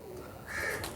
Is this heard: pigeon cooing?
yes